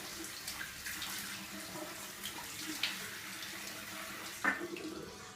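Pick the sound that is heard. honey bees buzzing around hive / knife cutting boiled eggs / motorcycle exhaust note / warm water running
warm water running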